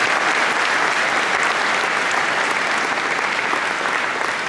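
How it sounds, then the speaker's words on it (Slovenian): Steady, dense applause from an interview audience, loud and continuous throughout with no pauses or voices over it. "To si zasluži aplavz."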